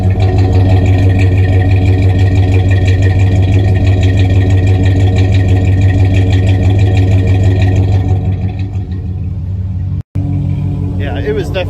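A truck engine idles steadily after a horsepower upgrade, a loud, even rumble up close that softens toward the end, cuts out for a split second, then resumes briefly with faint background sound.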